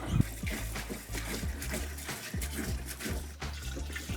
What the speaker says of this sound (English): I had to pour some antifreeze directly into the hose to prime it